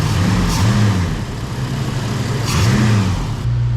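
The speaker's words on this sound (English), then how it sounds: "Let's give it a little bit of throttle and just see what it does." A 1966 Mustang engine fitted with Sniper EFI idles close and loud, then takes two quick blips of throttle, each rev rising and falling back to a rough idle.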